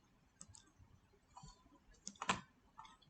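Mouse clicks on a computer during a CentOS install in VMware Workstation: a few faint, scattered clicks, with one louder click cluster near the end, over quiet room noise.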